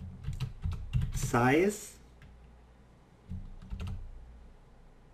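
Computer keyboard keys clatter in a quick burst as a registry value name is typed on a Windows 7 PC, with someone speaking German over and between the keystrokes.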